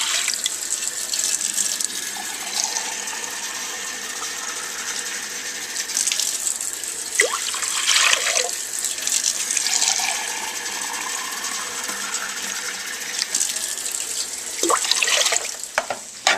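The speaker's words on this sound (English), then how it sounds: "And then add about 3 more cups of water without seasoning." Water poured into a crock pot for beef stew, a steady splashing pour with a few clinks and surges of louder gushing, close and continuous for about sixteen seconds with no talking.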